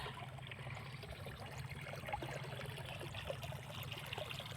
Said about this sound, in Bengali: দেখো ধান খেতে জল দেওয়া হচ্ছে